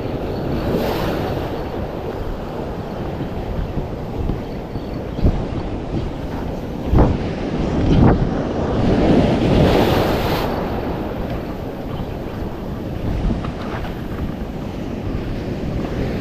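Ocean waves break and wash continuously at sea off Palawan during popper fishing, under steady, gusty wind noise buffeting the microphone, with occasional sharper surges of surf and no speech.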